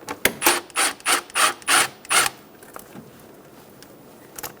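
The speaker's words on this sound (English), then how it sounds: "Using a 6mm socket," A 6mm socket ratchet loosens the intake clamp on a 2000-2007 Ford Focus: seven quick rasping clicks in an even rhythm, close and clear, followed by quiet.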